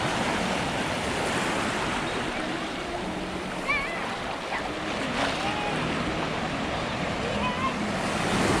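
Surf washes and breaks around a beach sandbar near Destin, Florida, a continuous broadband roar with wind buffeting the microphone and a few faint distant voices.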